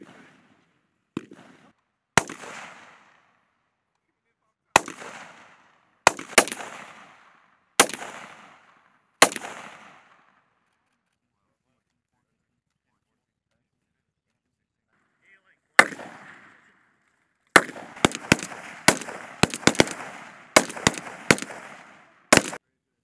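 Rifle gunfire during a military stress shoot exercise: single sharp shots spaced a second or more apart, then a gap, followed by a faster cluster of loud cracks near the end.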